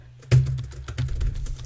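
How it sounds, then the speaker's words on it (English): Keyboard keys clatter rapidly as random keys are pressed to type chat messages in the game Emily is Away, close, steady and busy for the whole stretch with no talk. "I'm just pressing random keys, and that came up."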